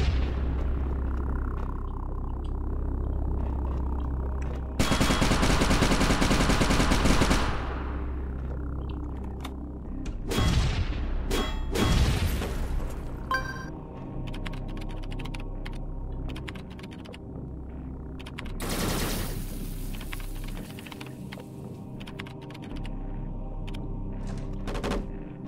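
Allied turrets in the Fallout Equestria video game fire in several rapid, loud bursts of clattering gunfire, separated by stretches of quieter background game sound.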